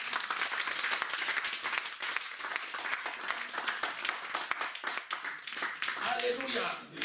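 Church congregation applauding during a French-language worship service, dense steady clapping throughout with voices mixed in, tapering slightly near the end.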